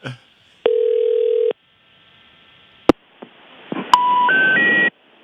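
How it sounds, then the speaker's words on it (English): A telephone call rings through a handset as one steady tone, then a sharp click follows, and three rising intercept tones play close and clear. "Here we go. Don't answer, Nate. I'm not going to answer."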